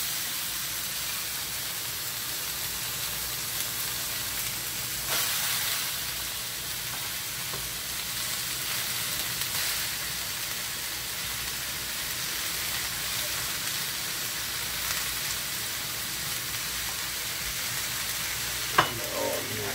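Vegetables for ratatouille fry steadily in a pan, a continuous close sizzle and crackle with no talking, ending in a brief sharp clink near the close.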